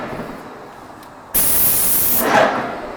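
A paint sprayer puts a first coat on an accent wall, bursting on abruptly into a loud, steady hissing spray that swells briefly near the end.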